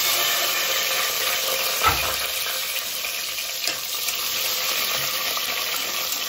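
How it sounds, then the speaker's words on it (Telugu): Onion and green chillies frying in oil in a pan, a steady hissing sizzle with one brief clunk near the start and a faint scrape later, no voices. "ఇదిగోండి ఉల్లిపాయలు వేగినాయి కదా"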